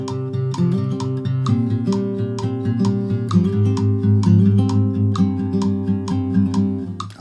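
A song on acoustic guitar at about 130 BPM, brisk fingerpicking with crisp repeated treble plucks over a continuous bass pulse, played alone and close throughout.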